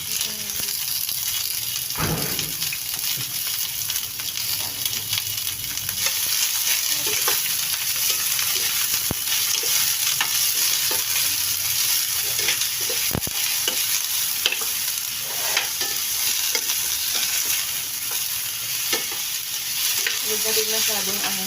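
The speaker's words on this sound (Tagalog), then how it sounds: "Mainit na ba ang mantika? Then, lagyan natin yung ating white onion." White onion dropped into hot cooking oil, a steady broadband sizzle that runs continuously and fairly loud throughout, with occasional stirring clinks and a brief pop near the start.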